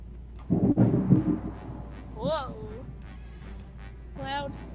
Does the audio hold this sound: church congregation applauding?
no